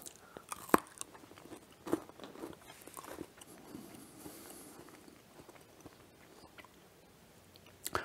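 Someone bites into and chews a homemade chocolate crunch-and-crackle bar, giving faint close crunches and soft chewing clicks scattered over several quiet seconds.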